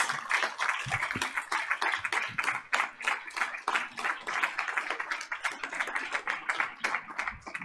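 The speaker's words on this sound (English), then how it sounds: "They certainly deserve a big round of applause." Scattered audience clapping at a board of education meeting, a thinner round of individual hand claps in a loose irregular rhythm, moderately close and fairly quiet.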